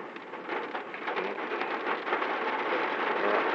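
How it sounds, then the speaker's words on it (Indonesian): Heavy rain pours steadily in Malang, a dense, continuous wash of drops on surfaces, loud and close with no voices. "Hujan lebat sekali tuh."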